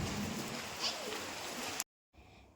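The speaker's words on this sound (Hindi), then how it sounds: "यहाँ बहुत ज़्यादा बारिश हो रहा है, अभी तो थोड़ा कम भी हुआ बारिश।" Heavy rain falls outdoors as a dense, steady hiss for most of the moment, then cuts to silence and returns more faintly.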